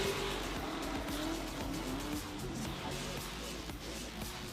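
A 2015 Camaro hits the e-brake to start a drift at a drifting event on the plains. A loud, steady roar of engine and tire noise carries a squeal that rises and falls through the whole clip.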